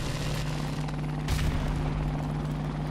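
Helicopter in the video game Call of Duty: Modern Warfare Remastered, a loud, steady rotor drone with a burst of gunfire partway through.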